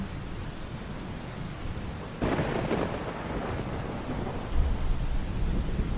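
Steady rain falls outdoors in a village while thunder rumbles in deep low rolls, the strongest one breaking in partway through, with no voices.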